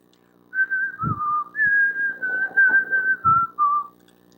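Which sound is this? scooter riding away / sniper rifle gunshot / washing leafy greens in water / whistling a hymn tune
whistling a hymn tune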